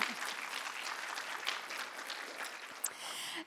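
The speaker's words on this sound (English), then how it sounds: "Catherine, who really needs a big round of applause." A conference audience gives a round of applause, steady dense clapping heard from a distance at moderate level, with a faint voice and a brief sharp knock near the end.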